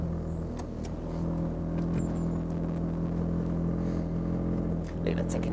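A 1972 Triumph Spitfire MkIV with its 1300 engine idles steadily at close range, a low even burble that continues under faint background noise.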